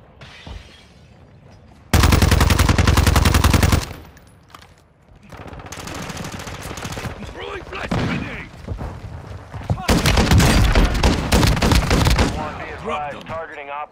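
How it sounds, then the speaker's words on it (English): Automatic gunfire in the video game Call of Duty DMZ, with loud sustained bursts, brief pauses between them, scattered single shots and radio-style voices over the shooting. "You are taking effective fire."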